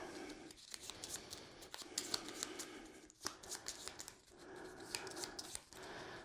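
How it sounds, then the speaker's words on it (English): Close, quiet riffling and flicking of a deck of game cards being shuffled for a solo board game, in repeated bursts of papery clicking with short gaps between, no talk. "For the AI, I'm going to shuffle its deck."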